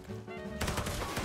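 Rapid automatic gunfire in the mobile survival shooter Ashfall, a dense burst of shots kicking in partway through after a brief quieter lead-in, loud and close.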